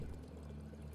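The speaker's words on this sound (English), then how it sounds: "Water cooler." A water cooler dispensing water in the video game Prey (2017): a steady, quiet pouring and trickling that runs for a moment without pause.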